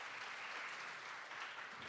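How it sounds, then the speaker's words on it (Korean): Steady applause fills a hall as a seated audience welcomes three AI chip industry panelists onto the stage at a tech conference session, a dense even wash of clapping throughout. "박수 좀 부탁드리겠습니다"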